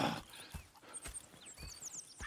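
Horses in Red Dead Redemption 2 clop along at a steady walk with soft hoof beats, faint outdoor ambience and occasional bird chirps in the background.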